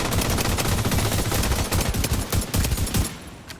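Rapid rifle fire from an M1A CQB in the shooter game The Division 2, a dense, loud stream of close gunshots that keeps firing almost nonstop before easing off at the end.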